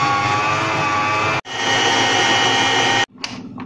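An electric mixer whipping cream with 300 grams of sugar, a loud steady high whirring drone that cuts out briefly twice, close up and alone.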